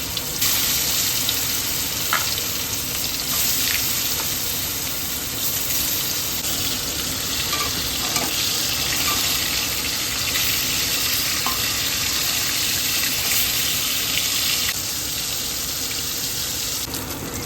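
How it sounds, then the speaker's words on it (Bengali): Catla fish pieces fry one by one in a wok of hot oil, giving a loud, steady, dense sizzle that runs unbroken throughout, with a few faint clinks of a utensil and no talking. "মাছগুলো ভেজে নিচ্ছি এক এক করে"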